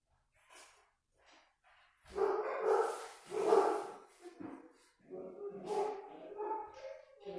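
Several excited dogs bark and yip from behind a backyard fence, in loud irregular bursts with brief pauses, close and energetic.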